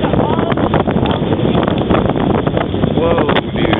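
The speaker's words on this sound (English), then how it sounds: "that wind is insane" Strong wind on a mountain glacier in Switzerland buffets the microphone: steady, loud roaring gusts fill the whole stretch without pause, close and harsh, with a voice faintly under the rumble.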